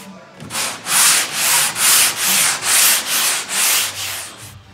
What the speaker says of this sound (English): my arms are shot sanding this